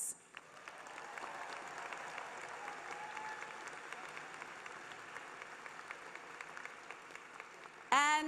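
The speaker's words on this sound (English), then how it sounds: "let's give a big round of applause to the commencement committee and all of the volunteers" Steady applause from a large commencement audience at a fall university graduation ceremony, sustained and even for about eight seconds before a short burst of other sound at the very end.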